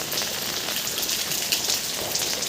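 Steady storm rain pours down in Chennai, a dense, continuous hiss of drops pattering on a hard surface with no voices.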